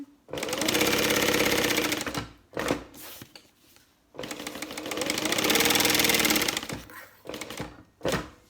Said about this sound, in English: I just got to my stitch line and just kind of back stitched back and forth